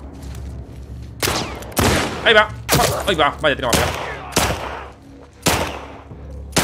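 Sharp, loud pistol shots in the video game The Last of Us Part II ring out one at a time at irregular intervals, with someone talking excitedly in Spanish between them.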